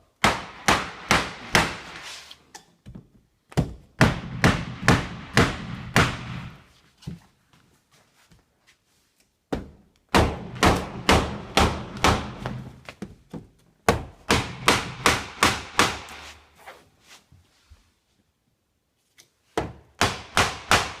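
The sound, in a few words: hammer striking wood chisel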